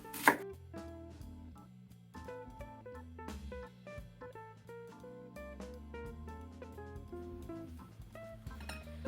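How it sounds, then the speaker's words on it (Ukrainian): Steady knife chopping an onion into quarters or sixths on a cutting board, a quick run of sharp taps beneath continuous background music. "Якщо цибуля велика, то нарізаю на 6 шматочків."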